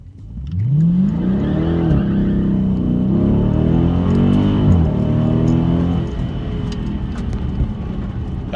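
A 2019 Dodge Charger Scat Pack launching hard from a stop on the street in sport mode, engine roaring loud and close as it climbs through rising revs with a brief tire-spin whine, then settling to a steady drone.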